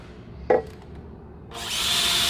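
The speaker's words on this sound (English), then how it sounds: "come in with a smaller drill bit" A short knock, then a power drill with a smaller drill bit whirs in close and keeps grinding steadily to the end, drilling a 2019 Chevy Silverado frame for a C-notch.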